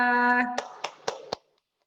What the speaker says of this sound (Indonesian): Tepuk tangan untuk Mbak Naila.